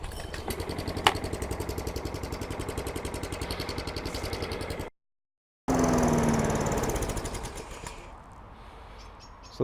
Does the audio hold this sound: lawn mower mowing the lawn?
yes